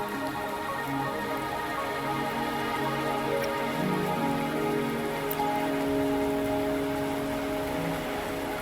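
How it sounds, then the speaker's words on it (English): Steady rain falls on surfaces in the video game Wuthering Waves, a continuous even patter with soft tonal game music underneath, no voices. "Are you trapped here by the rain?"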